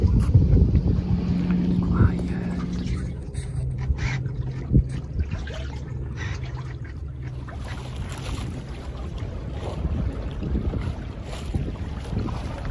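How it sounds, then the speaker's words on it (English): Wind rushes past while sailing a small cruiser sailboat off Croatia in light breeze, a steady rumbling gust across the microphone with water noise, and a person speaking briefly. "Seven knots of wind."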